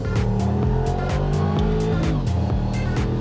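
A car engine roars loudly and continuously, with rhythmic pulses and shifting pitch suggesting revving and passing, dense and close, with no speech over it.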